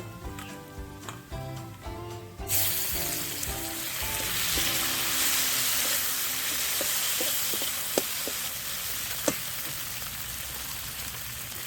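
Chopped tomato added to onions frying in a pan, a sudden loud burst of sizzling that settles into a continuous crackling fry with a few sharp pops, after a short quieter stretch.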